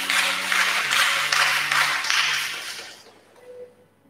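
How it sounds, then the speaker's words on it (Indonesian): Wedding guests applaud the bride and groom at a holy matrimony ceremony, a dense patter of clapping from a crowd that holds steady for about three seconds, then tapers off into quiet room tone with a faint voice. "kita berikan tepuk tangan kepada mereka berdua"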